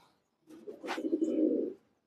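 An aluminium pigeon coos once, a soft low throaty rolling call lasting about a second, close by, with a brief higher chirp mixed in.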